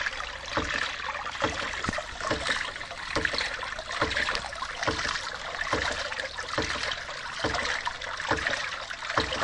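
A hydraulic ram pump runs smoothly while water flows, with regular soft knocking pulses about every half second over a constant rushing trickle.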